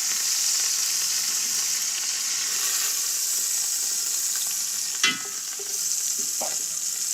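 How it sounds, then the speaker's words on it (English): Short ribs browning in a hot pan give a steady, close sizzle and frying hiss throughout, with a brief clatter of stirring or turning near the end; no one speaks. "just brown it a little bit here, a little bit there"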